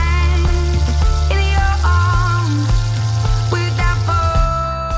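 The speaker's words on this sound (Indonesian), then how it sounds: "goreng hingga matang ya Besti." Kriwil-battered chicken deep-fries in hot oil, a steady loud sizzle and crackle running under prominent background music.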